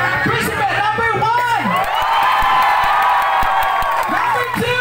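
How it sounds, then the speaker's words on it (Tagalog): A crowd cheers and whoops for contestant number 1 at a lively Filipino game show, loud and close with shrill shouts rising and falling, and some clapping mixed in. "Pag malakas ang palakpak, tanggal."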